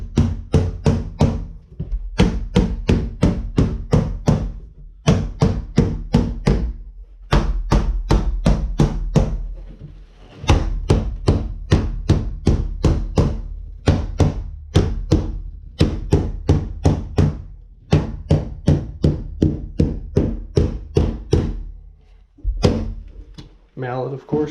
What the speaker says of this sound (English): mallet, of course, not a regular hammer, so it doesn't hurt the surface